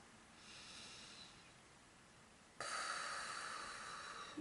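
Slow, deep breathing nearby, a long steady airy inhale followed by a stronger, breathier exhale, unhurried and with no talking.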